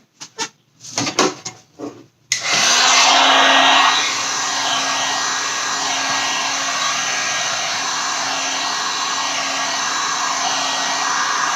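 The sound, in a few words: heat gun drying a primed canvas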